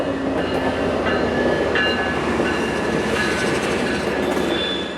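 A train rolls steadily past a stop, loud and close, with continuous wheel rumble, clickety-clack and faint squealing of the wheels throughout.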